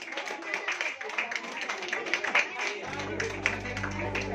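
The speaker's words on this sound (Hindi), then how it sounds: "तालियां बजाते रहिए।" Audience clapping at a school prize ceremony held for Saraswati Pooja, a steady dense patter of many hands that carries on throughout, with a low hum or music entering partway.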